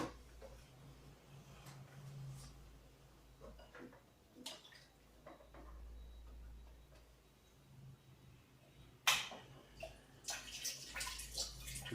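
Water running through a Eureka Forbes Aquaguard carbon filter during servicing, a faint trickle with small ticks and drips, rising into a brighter splashing burst toward the end.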